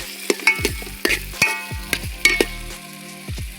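Carrot is stir-fried in a pan for Maggi noodles. A soft sizzle runs under a string of quick, close metallic clinks and scrapes as the pieces are stirred, with no talk.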